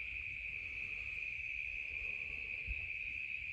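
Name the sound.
cicadas chirping at sunset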